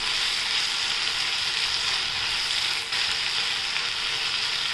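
A corn rice mixture being stirred in a hot pan: a constant, dense sizzling hiss with faint stirring movement underneath, steady throughout with no talking.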